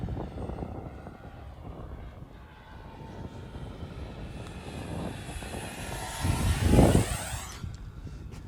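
A small RC jet with a 50mm EDF flies overhead, its ducted-fan whine rising and swelling into a loud close pass before fading, over steady outdoor background noise.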